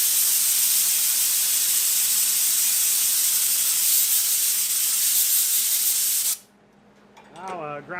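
MIG welder plug welding thin sheet metal: a loud, steady crackling hiss for about six seconds, close up, then cutting off abruptly, followed by a brief quieter voice.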